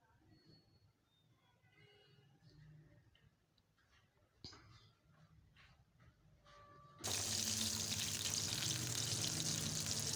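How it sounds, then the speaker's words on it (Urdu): Chicken ball dropped into hot oil in a pan bursts into loud, steady sizzling that suddenly fills the kitchen after several seconds of quiet clinks and handling noises. "اب اس پین میں نے آئل کو گرم کر لیا ہے اور ایک بال میں اس میں فرائی کروں گی"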